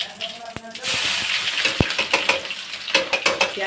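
Onions and chillies tipped into hot oil with cumin in a home kitchen, giving a broad hissing sizzle with clinks of utensils and stirring scrapes throughout.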